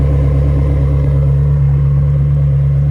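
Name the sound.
2003 Ferrari 360 Spyder exhaust rumbling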